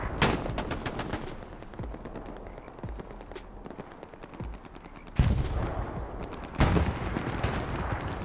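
Gunfire rings out in the Hell Let Loose World War II shooter on the Driel night map, with sharp shots scattered throughout, mostly distant, plus two louder, nearer bursts around the middle and later in the clip.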